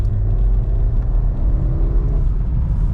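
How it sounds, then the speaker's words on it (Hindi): Toyota Glanza/Baleno petrol engine pulling hard under acceleration in traffic, a steady loud low rumble with a rising whirring drone heard from inside the car, no voices. "आपको गाड़ी थोड़ी सी दबा के निकालनी पड़ती है"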